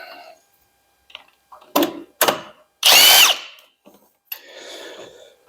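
Impact wrench on a Ford Model T bolt, used with a regular socket rather than an impact socket. Short, loud rattling bursts with quiet gaps between them, one longer hammering run in the middle, then a softer whir at the end.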